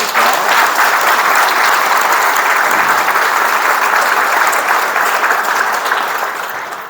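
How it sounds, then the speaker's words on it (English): An audience at a naming and groundbreaking ceremony breaks into sustained, loud applause, a dense wash of clapping that holds for several seconds before slowly tapering off. "Let's give them all a round of applause."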